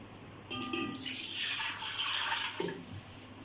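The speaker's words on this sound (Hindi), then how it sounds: "ये इसके अंदर पानी डालती हूँ।" Roughly two litres of water pour into a cooking pot, a rushing, splashing stream lasting a couple of seconds, preceded by a few clinks of the pot.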